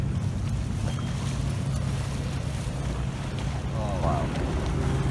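Boats run on the water in Venice, a steady low engine rumble under constant wind buffeting and splashing, close and continuous, with faint voices in the background.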